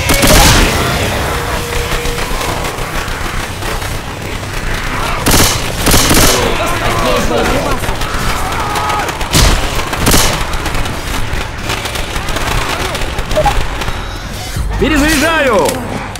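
Bursts of gunfire and booming explosions mixed with shouted voices and electronic effects in the video game Left 4 Dead 2, heavy and chaotic throughout.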